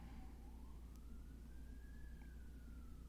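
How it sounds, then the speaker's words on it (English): Faint police siren wailing outside in the distance, one slow rising and falling sweep under a steady low hum, with no talking. "that police siren started up almost exactly when I turned the game on"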